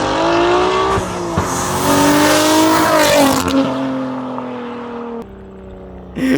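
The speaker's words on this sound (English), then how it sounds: "I told him to get like second gear to third gear shift because I find that those kind of sound the best." A BMW G80 M3 with an HFD valvetronic midpipe exhaust roars past in a loud flyby, revving high, then dropping sharply on a second-to-third gear shift before pulling away.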